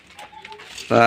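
Soft pigeon cooing close by, ending in a louder, fuller coo; faint background noise throughout.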